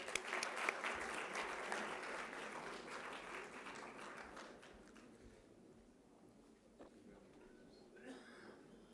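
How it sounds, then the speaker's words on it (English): Audience applause at a university convocation, a crowd clapping loudly at first and then thinning out and fading to a few scattered claps over several seconds. "Please let's applaud for them."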